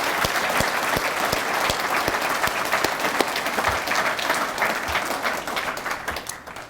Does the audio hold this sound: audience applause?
yes